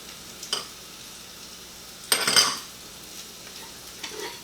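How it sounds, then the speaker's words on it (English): Carrots and onion are dropped into a preheated pan on a gas stove, with a few quiet clinks and one louder burst of sizzling and scraping in a quiet kitchen, with no voices. "We're going to drop our carrots and our onion in."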